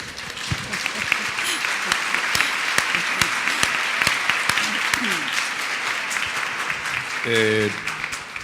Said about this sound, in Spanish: primero un aplauso para Evelyn